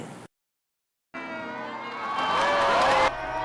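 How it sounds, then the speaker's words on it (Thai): Audience at a Thai royal-court news event applauding themselves, a dense wash of clapping and cheering that starts after a brief silence and swells louder toward the end. "เราปรบมือให้กับตัวเอง"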